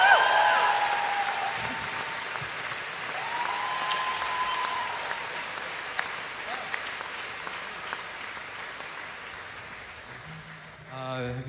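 Concert audience applauding at a live show at GORS, a dense, steady wash of clapping that fills the whole stretch, loud and close, then thins out near the end.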